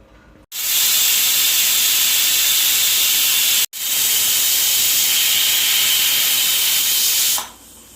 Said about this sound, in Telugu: ఇప్పుడు 2 విజిల్స్ వచ్చాయండి.